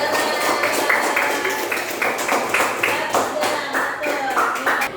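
A classroom of students claps together for a classmate at a teacher's prompt, a brisk, dense patter of hands that fills the room steadily with a slight uneven rhythm.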